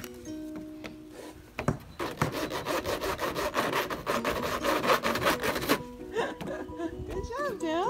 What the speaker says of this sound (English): Why don't you pretend to saw the deck?